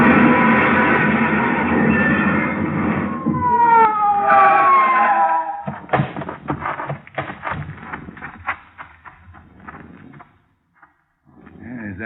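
Police car siren wailing in an old-time radio detective drama, rising and falling sweeps over a loud engine roar for several seconds, then cut off by a jumble of crashes, thumps and clatter that fade to near silence.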